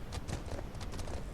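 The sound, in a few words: horse hooves clip-clopping in survival video game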